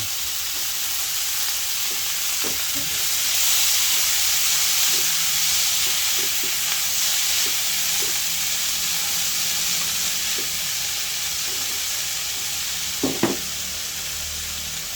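Bitter gourd (ampalaya) sautéing with crushed tomato in a pan gives a steady, even sizzle throughout, with a few faint clinks of stirring near the end.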